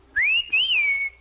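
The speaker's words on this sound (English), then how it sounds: "Whistle for the bus to stop." A person in an old-time radio comedy whistles a bright, rising-then-falling tone that lasts about a second, clear and alone with no talking.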